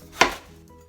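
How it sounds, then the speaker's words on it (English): A knife chops through a pineapple in one sharp, close cut, followed by a short fading rustle. "I'm chopping the pineapple."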